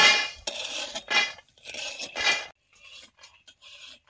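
Roasted peanuts scraped and scooped off a hot griddle, a few sharp metallic scrapes and rattling clinks in quick bursts, then fainter scattered clicks.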